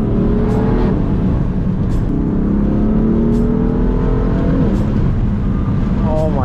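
A BMW F80 M3 engine revs hard while drifting, loud and close from inside the cabin, with rising and falling pitch sweeps as it climbs through gears and brief bursts of tire or exhaust noise between.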